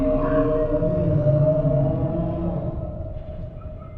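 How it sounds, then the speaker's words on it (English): In the underwater video game Fathom, whales call around the player: long, wavering, siren-like tonal moans that slowly slide in pitch and fade toward the end, with no talk. "Here's what it sounds like to be on Fathom with the whales around"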